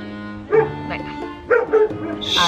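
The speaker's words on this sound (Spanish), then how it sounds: "Ahora el perrico ladrando." A small dog yips and barks several times in short bursts, fairly close, over a steady background hum.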